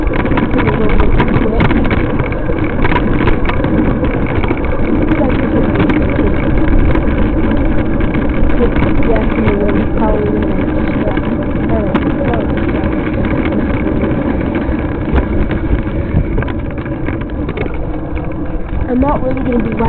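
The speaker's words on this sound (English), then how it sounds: "riding my scooter a lot because that makes a lot of noise" A motor scooter engine runs steadily while being ridden, a constant close drone mixed with wind buffeting on the microphone, and someone talks over it throughout.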